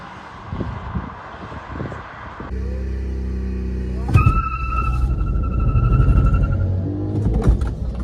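Skoda Octavia and a stage 1 Volkswagen Vento TSI drag racing with traction control off, loud engines accelerating hard close by, a steady roar with rising whine and gear shifts after a start, tire noise mixed in.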